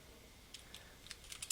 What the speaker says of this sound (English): I'm just going to go ahead and start typing a question